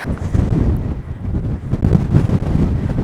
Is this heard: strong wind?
yes